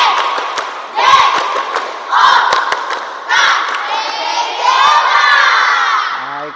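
A group of children shout a rhythmic clap chant in bursts, with loud voices rising together between claps in a school physical education class. The chant repeats in several surges and sounds lively and close.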